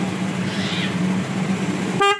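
A car idles with a low, steady engine hum, then a newly fitted telolet snail-type horn is tested with a single loud, short musical blast right at the end.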